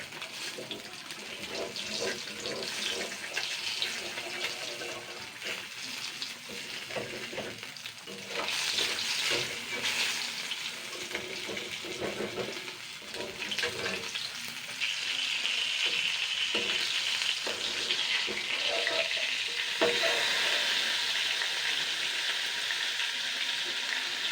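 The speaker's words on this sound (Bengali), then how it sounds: "দেখুন মাছগুলো ভাজা হয়ে গেছে" Fish pieces fry in hot oil in a pan for a Bengali fish curry, giving a continuous loud sizzle with crackling bursts. The sizzle grows slightly stronger partway through, with no talking over it.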